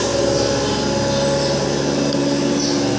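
VC999 vacuum packaging machine with an upgraded electrical control running through its vacuum cycle, a loud continuous motor and pump hum with steady tonal whine, no talking.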